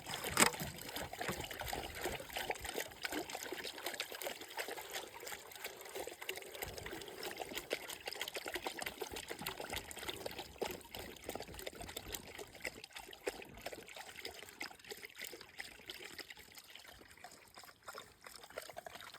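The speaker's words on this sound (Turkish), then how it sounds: "Yayla suyu." Highland spring water flows and trickles steadily outdoors, a soft continuous burble that holds throughout without talk.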